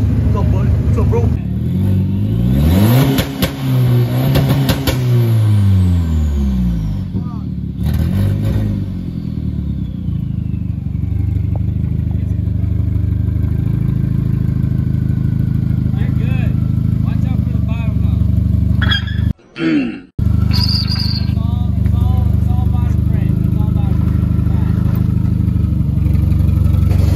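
A car left sitting for four months starts up and revs, the engine note climbing and falling in loud sweeps before settling into a steady, close idle with a brief dropout midway; voices talk over it.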